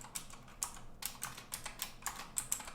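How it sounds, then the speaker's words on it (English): A password is typed on a computer keyboard during a Kali Linux install on Windows 10, with a quick, slightly irregular run of soft key clicks heard close up and alone. "You type in the password."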